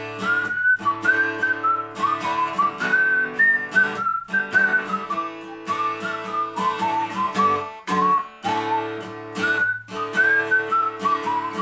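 Guitar in DADGAD tuning strumming accompaniment for the Irish tune Ramnee Ceilidh, playing steady rhythmic chords alone and up close with a bright melodic line on top and brief muted gaps between phrases.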